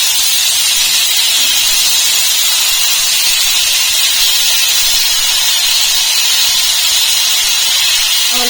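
Water poured into a hot cooking pot while making a home-cooked jackfruit dish, giving a loud steady hiss like steam that carries on without a break and with no talk over it.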